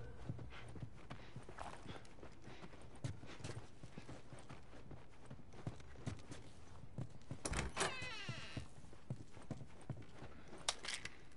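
Horse hooves clip-clop in The Last of Us, a steady run of close, moderately loud hoofbeats on hard ground, with a brief mechanical whirring and scraping noise midway and no talk.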